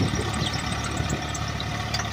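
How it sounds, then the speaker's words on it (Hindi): A Swaraj 742 tractor engine working at full power in a field chugs in a steady, even diesel drone with a rough knocking texture, close and continuous, with no voices. "यह ट्रैक्टर स्वराज का 4-star 742 HP ट्रैक्टर है, जो कि पूरा पावर के साथ अपना काम कर रहा है।"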